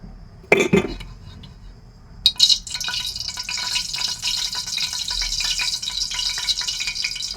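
Garlic hits hot cooking oil in a pan after a brief clatter of utensils, then a bright, steady sizzle and crackle of frying continues close up to the end.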